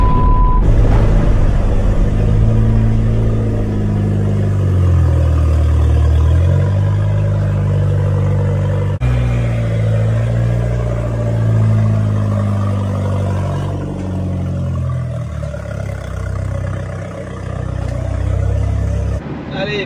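A cold Audi RS7 engine is revved, its loud deep roar rising and falling in long swells, with talk over it at times.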